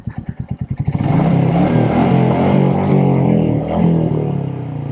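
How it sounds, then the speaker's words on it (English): A Royal Enfield Meteor 350 with a cat-delete exhaust rides past up close. It starts with thumping single-cylinder idle pulses, then swells into a loud, sustained, throaty roar that holds steady and rises again briefly. "let's real quick go through Exhaust Pipe Alley right here"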